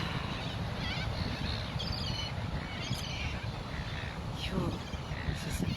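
Crows caw a few times at a distance over a noisy outdoor background, with a voice talking faintly beneath the calls.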